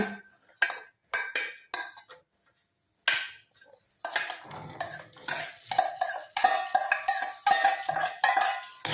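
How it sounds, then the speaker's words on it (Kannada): Corn is stirred in a little oil in a pan with a spoon, giving repeated close metallic scrapes and clinks, sparse at first and then quicker and more continuous. "ಕಾರ್ನ್ ಹಾಕಿ ಒಂದು ಸಲ ಮಿಕ್ಸ್ ಮಾಡಬೇಕು"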